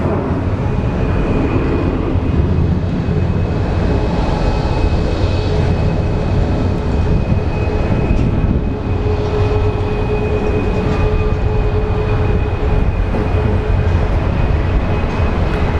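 A Southwest Boeing 737, built in 2003, departs Phoenix Sky Harbor International Airport. Its jet engines make a loud, steady roar that fills the whole stretch without letting up, and no voices can be heard.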